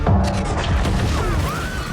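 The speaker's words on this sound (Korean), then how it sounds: "거대한 폭발과 함께" A huge explosion in a science-fiction alien invasion film: a loud, sustained roar of dense crashing, rumbling noise filling the whole stretch, with debris-like bangs and no clear speech.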